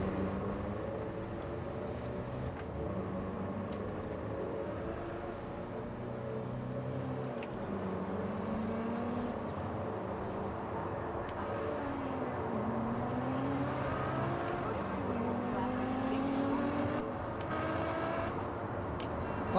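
Vehicle engine droning steadily while driving in the video game Cyberpunk 2077, with shifting tonal hum and a continuous mid-level roar, no talk.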